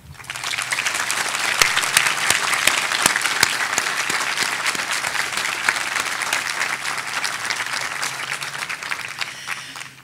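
A large audience at a memorial dedication breaks into a long, steady round of applause, a dense wash of many hands with a few sharper claps standing out near the front.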